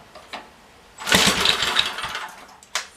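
An old generator with a rusty tank and dirty carburetor is pull-started, catching after a brief tug and running roughly for about a second and a half before dying, followed by one more short pull.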